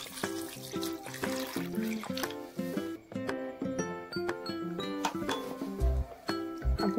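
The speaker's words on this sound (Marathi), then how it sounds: "आपले बटाटे शिजून झाले, आपण थंड पाणी टाकूया." Cold water runs into a pot of boiled potatoes, a light splashing trickle with scattered clinks of metal, moderately close and fairly quiet, with no talk.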